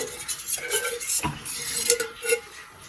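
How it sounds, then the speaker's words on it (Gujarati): A small bowl is set down on a gas stove: a single clear clunk of contact amid light metallic clinks and scraping, close by, with a faint hiss in the background. "ગેસ ઓન કરીશું અને નાનો એવો બાઉલ મૂકીશું"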